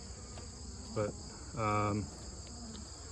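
A honeybee swarm colony in a bee yard hums as a steady, faint buzz of insects throughout, with a soft spoken word in the middle.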